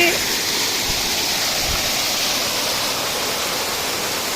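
Water rushes down steadily near a house after rain, a loud, continuous broadband roar like a small waterfall or stream, heard close up with no voices.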